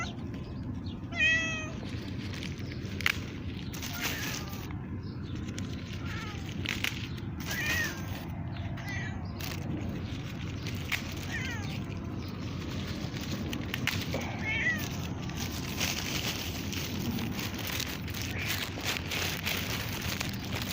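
A pet cat meows several times in short, clear calls early on, with fainter mews later, over steady outdoor background noise among garden plants.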